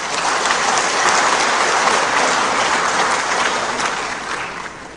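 A crowd at an Indonesian political rally with Ganjar applauds loudly and evenly in a sustained wash of clapping that tapers slightly near the end.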